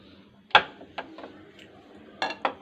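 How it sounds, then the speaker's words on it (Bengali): A metal wok (kadai) is set down on a home gas stove while cooking dhaba-style egg tarka, giving a few sharp metallic clanks and knocks spread over a couple of seconds in a quiet kitchen. "এবার আমি একটা কড়াই চাপিয়ে নেব।"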